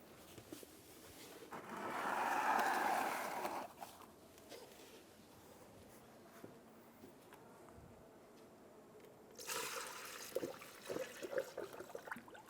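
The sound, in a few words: coolant pouring through a funnel into an Infiniti G35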